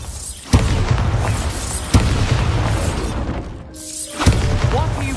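Loud Bombarda explosion spells from the video game Hogwarts Legacy, three sharp booming blasts spaced across the moment over a dense, rumbling game soundscape.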